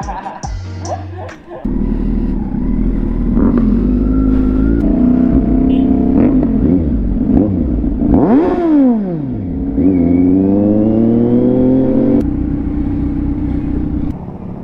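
A Kawasaki Z900 motorcycle engine idles and revs repeatedly up close, pitch rising and falling, with people talking over it.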